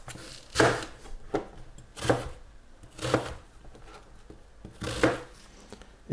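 A knife chops onions on a cutting board in a home kitchen, giving sharp, woody knocks in loose clusters, four louder strikes spaced about a second and a half apart with softer taps between, close and clear with no talking.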